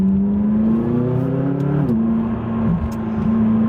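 McLaren 570S accelerating through a turn, the engine note loud and close, climbing in pitch, dipping briefly at a shift, then pulling steadily again.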